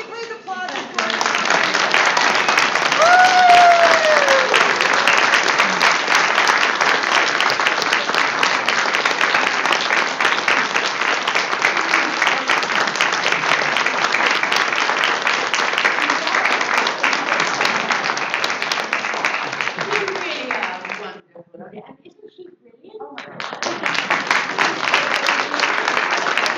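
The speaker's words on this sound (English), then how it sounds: "Can we please applaud" Sustained audience applause at a live broadcast, loud and dense, fills most of the stretch, drops out briefly near the end, then resumes; a voice is briefly heard over the clapping.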